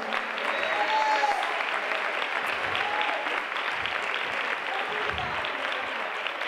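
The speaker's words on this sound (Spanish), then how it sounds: "Ángel Reyes, aplauso para él" Audience applause at a spring festival Day of the Elderly event in Málaga, greeting a dancer from Córdoba: steady, dense clapping from a crowd that holds for several seconds, with a few whistles or cheers poking through.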